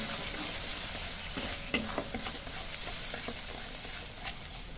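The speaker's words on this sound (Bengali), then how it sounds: "এবার মশলাগুলোকে সব একসাথে নাড়িয়ে দিলাম" Spices with turmeric and salt stirred in a hot pan for a mustard-poppy fish curry, a steady sizzle with scraping strokes of the spatula, a sharper knock near the middle, close and constant.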